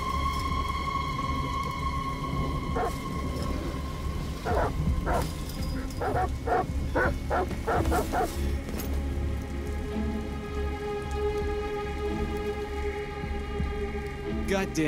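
Dogs in the video game Detroit: Become Human bark in short bursts over steady rain and a low rumble, the barking clustered midway and fairly distant.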